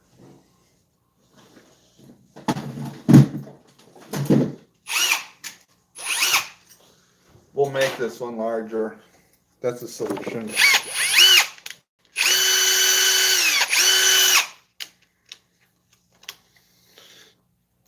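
A power drill whirs in a steady burst for a couple of seconds near the end, after someone speaks briefly with clicks and handling noises.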